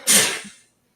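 A single sneeze close to the microphone, a sharp breathy burst that fades out within about half a second, followed by silence.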